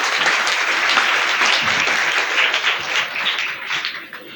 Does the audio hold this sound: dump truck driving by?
no